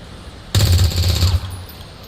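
A sudden, loud burst of rapid automatic gunfire from XCOM 2: War of the Chosen starts abruptly, rattles for just under a second, then tails off into a fading echo.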